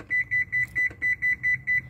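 Kitchen oven timer beeping in a steady run of about nine short, even electronic tones over roughly two seconds, clear and close with a faint low hum beneath, set for baking coconut macaroons at 325 degrees Fahrenheit.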